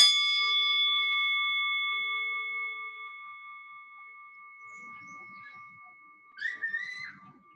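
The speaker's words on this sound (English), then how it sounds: "We'll ring our bell and just do three." A meditation bell is struck once and rings out in a long, clear, sustained tone that slowly fades over several seconds, with a faint voice near the end.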